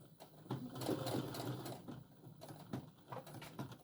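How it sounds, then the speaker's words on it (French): A domestic sewing machine stitching a seam on fabric for a beginner's reusable sandwich wrap, its needle pattering in quick close bursts that pause briefly and restart. "Et je continue ma couture."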